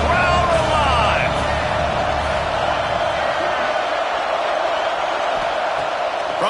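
Stadium crowd roars and cheers at a third-down red zone play in a college football video game, Maryland versus Georgia, a loud steady wash of noise filling the whole stretch with no talk over it.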